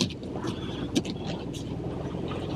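A Ford Bronco driving off-road in four-wheel drive, with a steady, close engine and drivetrain rumble running under a person's talk throughout.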